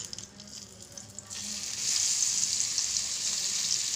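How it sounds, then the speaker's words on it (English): Chopped onions hit hot ghee with cumin seeds in a pan and set off a bright, steady sizzle. It is quiet at first and then jumps to a constant close frying hiss that lasts to the end, with no voices. "In the same pan, I'm going to add 1 tablespoon of ghee. I'm going to add cumin seeds to it. Then I'm going to add 2 large onions to it."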